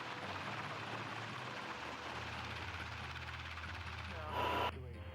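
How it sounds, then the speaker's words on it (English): Rescue helicopter hovering over a boat at sea during a hoist, then backing off: a steady, loud low rotor and engine drone with broadband wash noise throughout, and a brief louder hiss near the end. "The helicopter will then back off to a safer location."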